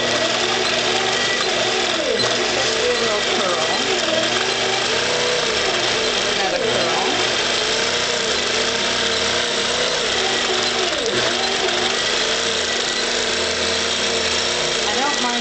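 APQS Millennium longarm quilting machine free-motion stitching a sampler quilt, a steady continuous mechanical hum with faint rhythmic needle whir throughout, moderately loud and close.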